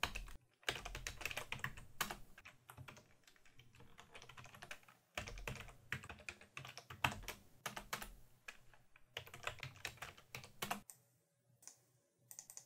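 Fast typing on a computer keyboard while a script is edited, with dense clattering keystrokes in bursts separated by short pauses, close but quiet.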